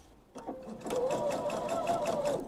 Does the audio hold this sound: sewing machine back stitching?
yes